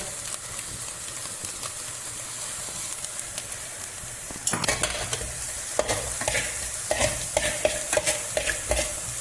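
Onion, garlic, green chili and ginger fry in a pan, a steady hiss under scraping spatula strokes that grow louder and more frequent partway through.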